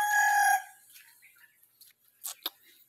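A rooster crows once, loud and close, cut off abruptly after half a second, followed by faint scattered rustles and a couple of short sharp clicks.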